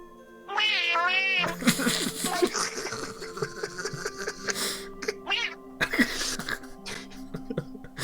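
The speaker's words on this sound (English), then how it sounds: "Yosef, was it you that played that fucking sound clip of that cat?" A soundboard cat meow plays amid a noisy tabletop role-playing session, with a wavering meow near the start. People talk and laugh over it throughout.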